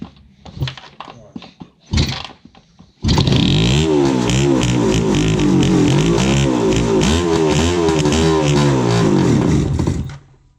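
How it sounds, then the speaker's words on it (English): A 1976 Suzuki GT750 two-stroke motorcycle engine, running on ether in a smoky indoor space, coughs through a couple of failed cranks, then catches and runs loud and steady with wavering revs for about seven seconds before cutting out. "this is not a good way to start a two-stroke"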